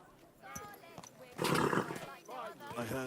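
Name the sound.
horse in the video game Kingdom Come: Deliverance II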